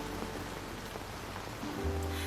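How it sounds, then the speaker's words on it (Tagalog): Rain falling steadily, a soft continuous patter on surfaces under low background music, with no voices. "Oo, umuulan."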